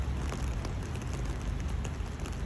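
Rain falling at Lake Geneva on a cold day, a dense, steady hiss of drops on surfaces, close and constant throughout with no talking.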